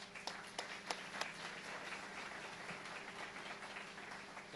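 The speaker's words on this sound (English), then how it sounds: "One more round of applause." Scattered applause from an audience at a police meritorious awards ceremony, a few sharp individual claps standing out over a faint, thin background of clapping and room hum, distant and quiet.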